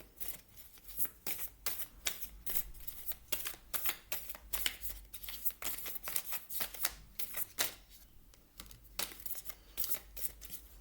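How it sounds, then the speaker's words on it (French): Tarot cards are shuffled and drawn in quick, papery riffles that repeat close up for about eleven seconds, with no talking. "on va aller chercher, piocher d'autres cartes."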